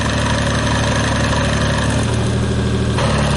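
A car engine idles steadily with a low, even rumble and a mechanical whine while someone listens near the bell housing for transmission noise; close, constant and loud, with no talking.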